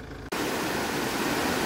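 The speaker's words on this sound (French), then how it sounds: "Regardez, il y a des cascades partout." Steady broadband roar of waterfalls in a green valley in German-speaking Switzerland, starting abruptly after a brief quieter moment and then holding constant and fairly loud with no voices.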